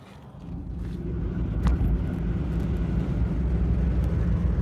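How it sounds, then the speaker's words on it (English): A car with a crappy old exhaust drives along, heard from inside the cabin as a loud, steady low rumble that swells as it gets under way and then holds with faint road noise. "So we'll go take it for a rip with a crappy old exhaust."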